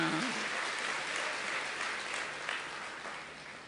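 Audience members at a spiritual class clap in a continuous, even wash of applause that fades slightly toward the end.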